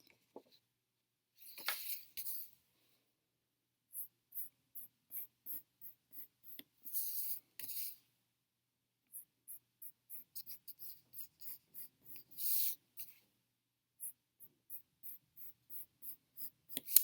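Light pencil strokes sketching small arcs in each corner of a sheet, a series of short, quiet scratchy strokes in quick rhythmic bursts with brief pauses between them.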